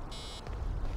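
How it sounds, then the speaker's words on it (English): In the video game Assassin's Creed Origins, a single short electronic beep sounds, thin and high, then cuts off quickly against a quiet background. "Stop beeping around."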